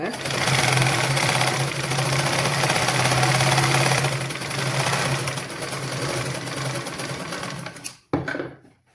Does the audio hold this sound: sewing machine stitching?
yes